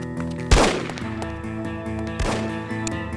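Gunfire in the 2002 shooter No One Lives Forever, with two loud separate shots over a continuous droning game soundscape, the first shot sharper and the second echoing a little.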